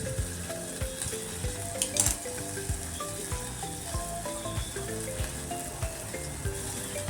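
Curry leaves dropped into hot oil for a fasting-day sago thalipeeth, a soft steady sizzle with small crackling pops spread throughout and a brief louder spatter partway through.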